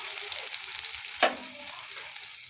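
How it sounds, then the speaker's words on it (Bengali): Red lentil fritters go into hot oil one at a time and fry with a steady soft sizzle and bubbling, a brief louder hiss marking a fritter dropping in partway through. "তেল গরম হয়ে গেছে, এবার আমি বড়াগুলো একটা একটা করে ছেড়ে দেব।"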